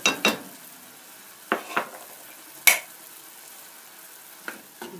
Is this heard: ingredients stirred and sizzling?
yes